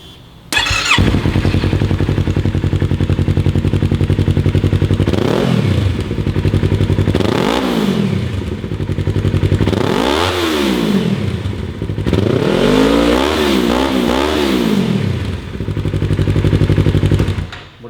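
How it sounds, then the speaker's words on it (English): A Yamaha R3 motorcycle with a Graves Motorsport full exhaust idles loudly up close and is revved repeatedly, its pitch sweeping up and down in several rising surges. "let's see, does the exhaust note earn the approval of Little Max Van?"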